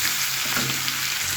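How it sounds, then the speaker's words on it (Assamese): Meat frying dry in oil in a pan, no water added, a steady close sizzle with a faint stirring scrape partway through, no voices. "মাংসখিনি ধুনীয়াকৈ ভাজি ল'ম"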